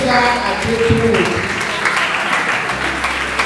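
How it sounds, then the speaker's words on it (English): Applause from a conference audience for the second speaker at LCEW 2022, steady dense clapping throughout, with a voice and some tonal sounds mixed in over it. "can we give a resounding round of applause to our second speaker on today"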